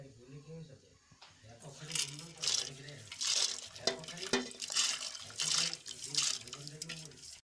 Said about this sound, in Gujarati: મેં બે પાણીથી ધોઈને સાફ કરી દીધી છે તો એને આપણે ગરમ પાણીમાં ઓરી દઈશું